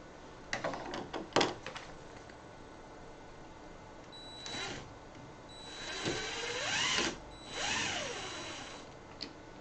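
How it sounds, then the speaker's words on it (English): Clicks and knocks, then a cordless drill whirs in short bursts on an Anet A8 3D printer. Its motor pitch sweeps up and back down as the trigger is squeezed and eased, close and fairly quiet. "How many other guys you see use a cordless drill on their 3D printer"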